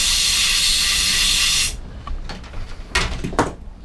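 Compressed air hisses loudly and steadily through a generator's fuel pipe during a carburettor clean, then cuts off, followed by a few shorter, fainter bursts of air.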